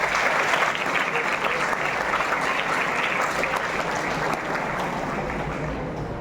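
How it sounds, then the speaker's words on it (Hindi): School assembly audience applauding at a student council oath-taking ceremony: sustained, loud clapping from a large crowd of students, holding steady and easing slightly toward the end. "उनके लिए तालियां दीजिए।"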